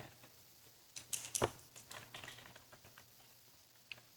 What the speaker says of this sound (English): While she's typing that,